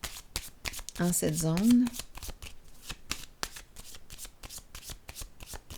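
Tarot cards are shuffled and laid down during a French-language reading, a brief papery riffle of card handling heard under a woman's steady speech.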